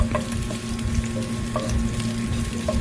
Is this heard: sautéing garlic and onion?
yes